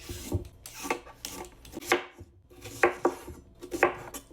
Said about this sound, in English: Next, cut your cucumber.